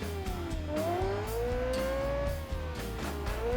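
A 1967 F1 car in BeamNG revs hard, its high engine note rising and dipping under moderate throttle, loud and continuous, with a faint hint of tire squeal.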